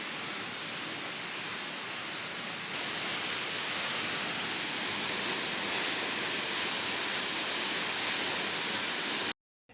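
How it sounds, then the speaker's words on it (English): A powerful waterfall thunders inside a cave, a dense, steady broadband roar that fills the whole clip at close range with no voices, then cuts off abruptly just before the end. "The water's seriously powerful if you stand under it."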